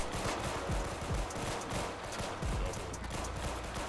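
Rapid gunfire bursts from the Roblox shooter game Arsenal, a fast, dense crackle of repeated shots running throughout at moderate volume with no speech.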